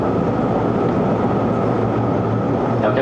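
Steady rumble of a Seibu Shinjuku Line 30000 series local commuter train running between Seibu-Shinjuku and Hon-Kawagoe, heard from inside the carriage as a continuous, even roar with no talk.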